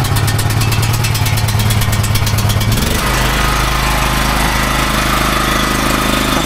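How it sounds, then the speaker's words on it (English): A portable generator in the back of a trailer is started and runs near and loud, its rapid pulsing engine chatter shifting about halfway into a steadier, heavier drone. "I've got the generator in the back of the trailer"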